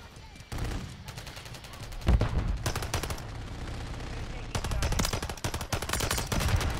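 Assault rifle fire from the Holger 556 in Modern Warfare 3 rattles out in rapid, loud bursts, some shots quicker than others, with brief pauses between strings of gunfire.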